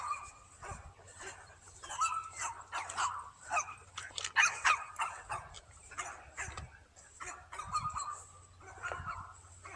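A small dog barks and yips in uneven bursts outdoors, fairly faint against a low background hum, with whimpering notes between the barks.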